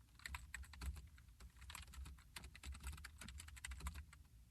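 Typing code on a computer keyboard, a steady run of close, fairly quiet key clicks with no talking.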